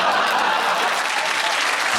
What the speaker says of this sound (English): again, round the applause to Tom, Dara O'Briain!